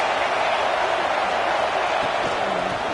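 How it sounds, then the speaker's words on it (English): Dense, steady roar of a packed stadium crowd at a Nebraska versus USC college football game, loud and continuous without breaks, a wash of many voices cheering with no single speaker standing out. "This crowd trying to make life miserable for this offense."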